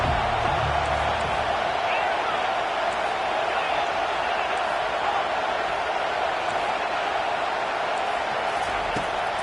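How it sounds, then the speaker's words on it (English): Football stadium crowd at an Alabama vs Texas Tech game roaring steadily for the defense ahead of a late fourth-down play, a dense, sustained wash of cheering and noise throughout. "this crowd is coming to help the defense"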